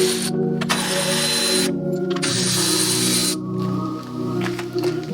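Power tool backing out the 10 mm bolts that hold a Ford F350 Powerstroke headlight, a loud steady whirring drone with harmonic tones in bursts, broken by brief pauses and ratcheting clicks.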